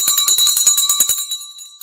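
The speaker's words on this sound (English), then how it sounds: "it's time for the bell." Stock market closing bell clanging in rapid repeated strikes for about a second and a half, loud and close, then leaving a ringing tone that fades out.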